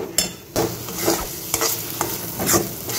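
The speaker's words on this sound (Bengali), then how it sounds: "এইভাবেই মশলাটাকে আমি কষিয়ে নেব।" A spice paste for a rohu fish head curry is stir-fried with a little water, making a close, steady frying sizzle broken by repeated scraping strokes of a spoon about every half second, with no voices.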